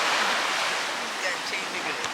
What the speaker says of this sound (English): We at the beach.